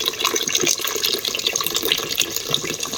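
Water pouring and trickling steadily as it drains from soaked raw rice, a continuous close splashing flow with no voices.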